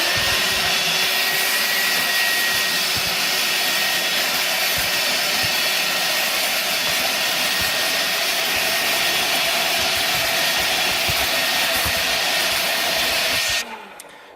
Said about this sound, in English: I'll go ahead and use this to vacuum the rest of this sand.